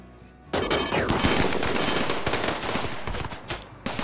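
Turrets in the video game RimWorld fire rapid automatic bursts, a dense and loud clatter of gunshots that begins abruptly and keeps going without a break.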